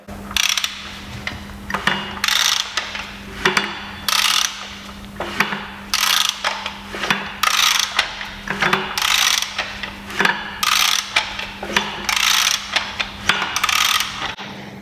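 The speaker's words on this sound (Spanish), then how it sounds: "lo que quiero que escuchéis es el ruido que generan los variadores" The double VANOS variators of a BMW engine as it is turned, giving a rhythmic run of close mechanical clicks and ratcheting knocks over a low steady hum, with no talking.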